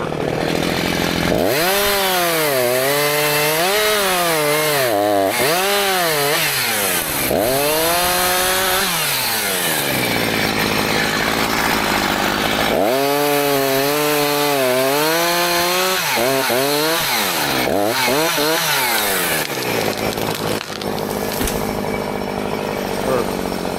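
Chainsaw cutting a leaning tree on a farm: the engine revs up and down in repeated surges as it bites into the wood, loud and close, over a steady background rush.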